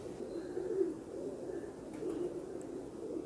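Golden 222 breed pigeons coo softly and continuously in a loft, a low murmuring drone of several birds with no voices over it.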